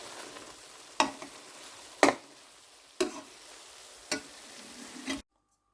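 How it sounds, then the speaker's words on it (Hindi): Keema and mushrooms frying in a pan, a steady sizzle beneath, broken by about five sharp, evenly spaced scrapes and knocks of a stirring utensil roughly once a second, ending in abrupt silence. "बस इनको हम भून लेंगे 2-4 मिनट"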